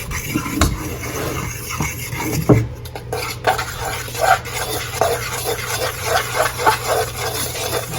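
A spoon stirs strawberry cobbler mixture with milk in a bowl, making repeated soft scraping and clinking strokes at an uneven rhythm, close and fairly loud.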